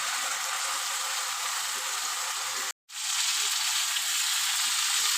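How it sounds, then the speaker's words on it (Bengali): Turmeric powder fries in hot oil in a pan with taro for a tilapia curry, producing a loud, steady sizzle that cuts out for a split second before resuming. "হলুদ গুঁড়ো দেব আর ভালো করে ভেজে নেব"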